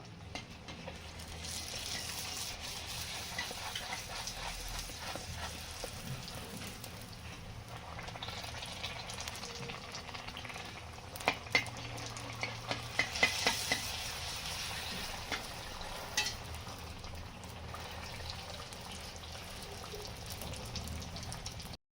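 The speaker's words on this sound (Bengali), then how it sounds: "ফুচকা এবারে ভেজে নেব" Fuchka puri shells deep-fry in hot oil in a wok, giving a continuous soft sizzle with scattered small crackles and pops, fairly quiet and steady throughout.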